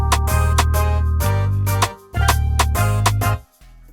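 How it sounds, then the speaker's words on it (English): Open hi-hat hits inside a 2000s-style RnB beat, with short bright cymbal splashes recurring a few times over a loud, sustained low bass and layered chords, no talking. "Now we got 2 different open hats."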